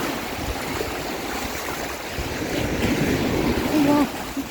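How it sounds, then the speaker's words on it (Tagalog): Waves wash and surge nearby at Stanley Beach, Hong Kong, in a continuous rushing roar, building louder toward the end, with faint voices in the background. "Malakas yung alon dito."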